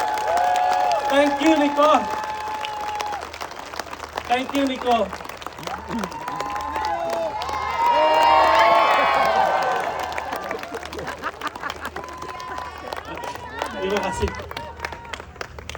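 An audience at a company event applauds and cheers for their CEO, with sustained clapping and crowd noise swelling in the middle while someone speaks loudly over it.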